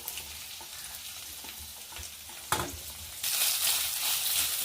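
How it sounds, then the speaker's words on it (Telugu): Onions frying in oil with ginger paste in a home kitchen, a continuous close sizzle with occasional stirring scrapes, swelling to a brighter, louder hiss near the end. "చూడండి ఇలా మంచిగా ఫ్రై చేసుకోవాలి"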